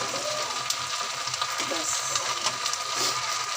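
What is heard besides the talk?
vegetable bhaji frying in a pan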